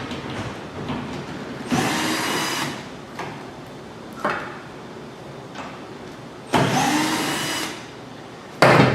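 Two 8mm bolts come out of a Ford F-150 tailgate under a power driver, heard as short loud whirring bursts separated by pauses, with a few clicks and light handling noises between them.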